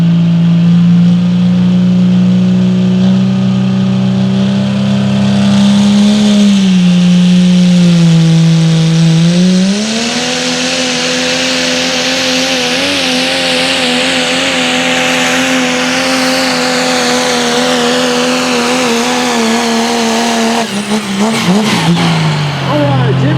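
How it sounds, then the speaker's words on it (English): An open four-wheel-drive Pro Stock Diesel pulling truck roars loudly and continuously through a full pull, its engine note climbing and straining before dropping off near the end. "William Kaufman with a strong run to start off our open four-wheel drive Pro Stock Diesel truck class."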